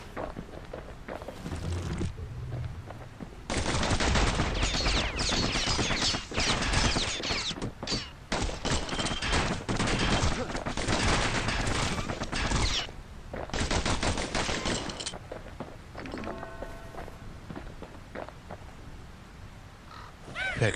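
Rapid bursts of gunfire from the Kid's guns in the action game Bastion, loud and dense, firing in sustained volleys with brief pauses, mixed with game effects and no talking.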